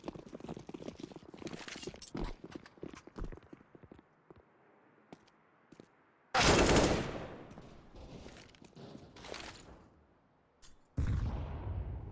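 Counter-Strike gunfire on the Nuke map, with AK rifles and pistols in rapid bursts of shots, dense volleys alternating with quieter gaps, plus loud whooshing blasts and faint footsteps, no talk heard.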